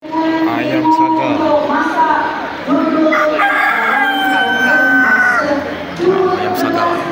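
Roosters crowing repeatedly at a busy agricultural show, with long, rising-and-falling calls from several birds mixed into crowd murmur and nearby voices.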